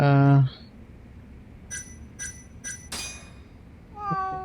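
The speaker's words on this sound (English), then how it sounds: "Put a cat in there." A cat in a video game gives one short meow at the start, followed by a few bright chiming clinks and a second brief meow at the end.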